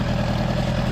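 A 1975 Honda GL1000 motorcycle engine idles steadily up close, a smooth low even drone with no talk over it.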